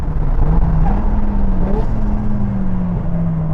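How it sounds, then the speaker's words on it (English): A Mazda RX7 rotary engine drones loudly inside the car during a lap of VIR, its pitch climbing and settling through the gears in a continuous close rumble. "And now enjoy Kobe's unabridged lap of VIR in the RX7."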